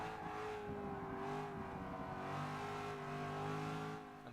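A sports car engine races in Forza Motorsport 6, a steady loud drone with layered harmonics that swells and eases slightly as the car revs through corners.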